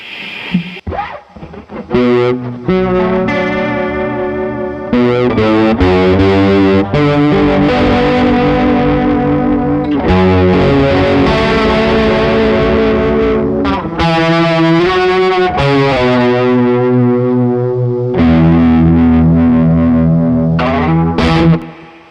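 Heavily distorted electric guitar through a Madbean Pork Barrel chorus pedal, a shimmering chorus effect, playing sustained chords and riffs loudly and continuously with no talking.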